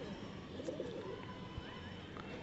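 A homing pigeon, returned after being caught and having its feathers clipped, coos softly and low amid steady background noise, with a few faint chirps from birds farther off.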